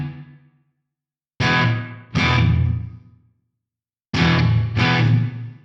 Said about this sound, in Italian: questo riverbero in realtà non si capisce benissimo